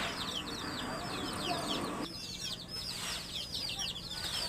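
Chickens kept in cages on a poultry farm cluck and chirp softly. The sound is faint and continuous, with a low background hum and no one speaking.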